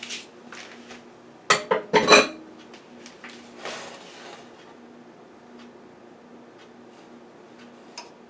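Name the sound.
spreading gluten free streusel over a loaf pan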